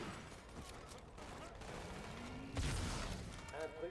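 Scattered gunfire in a Halo 2 Anniversary firefight against Covenant forces, with a heavier blast near the middle and short bursts toward the end over a busy game soundscape, partly under talk.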